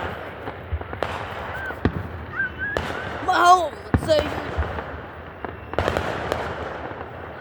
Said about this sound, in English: those fireworks suck